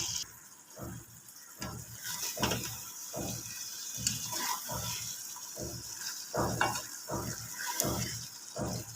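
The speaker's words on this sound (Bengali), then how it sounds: "চাপিলা মাছটা বসিয়ে দিয়েছিলাম এখন বানিয়ে দেবো এটা" Chapila fish frying in a pan, a steady sizzle broken by a regular series of scraping or stirring strokes roughly every half second, close and moderately loud.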